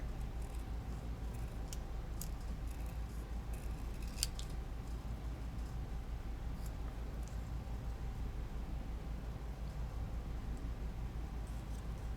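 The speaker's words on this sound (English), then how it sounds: "Trim it on down, just get the white border off of it." Scissors trim the white border off sheets of Yasutomo Pure Color paper for a junk journal, producing close, continuous snipping and rustling that runs steadily throughout with no speech.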